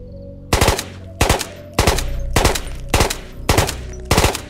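Gunfire in the VR shooter Ghosts of Tabor: seven evenly spaced loud bursts of rapid shots, each a tight double or triple crack with a ringing tail, separated by short pauses.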